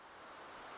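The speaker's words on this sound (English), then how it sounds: "I'm going to set up a signal generator. We're going pink noise." Steady broadband pink noise from a signal generator, a smooth continuous hiss that swells slightly in level across the short stretch, alone with no voices.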